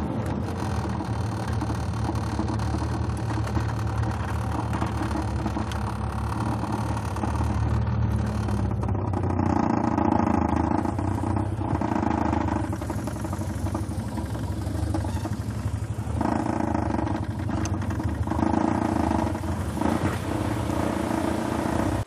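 A Triumph Spitfire with a rattling dashboard drives slowly into a garage, its engine a steady, close, low drone that swells and dips slightly throughout, with no talking.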